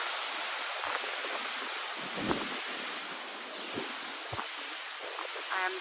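Steady wind rushes through trees in the calm after Hurricane Helene, a broad continuous hiss with a few soft gusts and faint rustles throughout.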